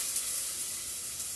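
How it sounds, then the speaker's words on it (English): Onions dropping into hot olive oil in a pan, a steady bright sizzle and hiss, close and continuous with no talk. "Now the onions are going in."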